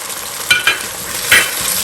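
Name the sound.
spices frying and being stirred in a pan with onions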